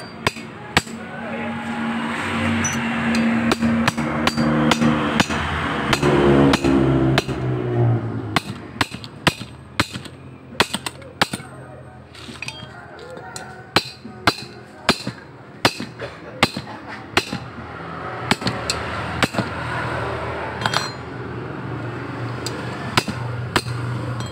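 Repeated metal hammer blows drive an 8 mm bolt into a part of a Bajaj Pulsar motorcycle that is emitting white smoke, sharp strikes in irregular bursts over a low mechanical background.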